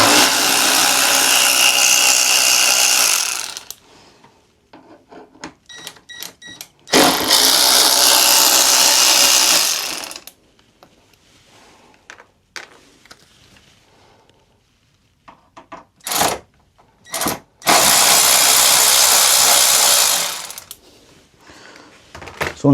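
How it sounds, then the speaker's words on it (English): Bolts being worked out of the front wing of a 2025+ RS660 motorcycle with a 4mm Allen key: three long, loud bursts of mechanical noise, separated by quieter stretches of sharp clicks and small metallic taps. "we'll be removing those bolts using a 4mm Allen key"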